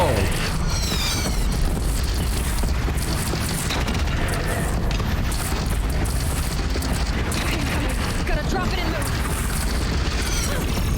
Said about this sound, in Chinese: 去发射大炮！ 蹦蹦蹦！